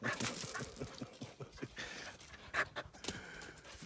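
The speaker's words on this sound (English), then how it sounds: "we have a little puppy here going mad for the ball." A little puppy pants rapidly and whimpers with excitement for a ball, close by and continuous, with breathy bursts and small yips, outdoors at a lakeside log cabin where decking is being laid.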